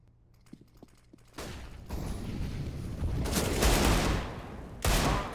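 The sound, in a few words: Desert Eagle pistol gunfire in video game CS:GO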